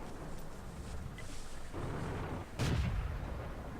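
A tank's cannon fires in a World of Tanks replay featuring a KV-2 and E25. One loud, low boom stands out over a steady background rumble, followed by a brief fading tail.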